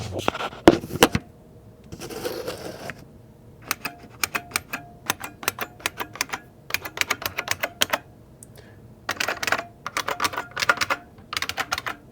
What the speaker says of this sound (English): I'm gonna take these keycaps off.